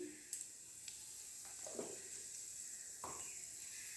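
Panch phoron spices hit hot oil with a soft, steady sizzle and hiss, punctuated by a few faint crackles and pops, quiet and close.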